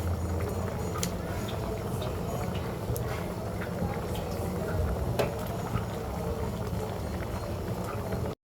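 Shrimp sizzling in hot oil in a pan, a steady, quiet crackle and hiss running evenly throughout with a few sharper pops standing out.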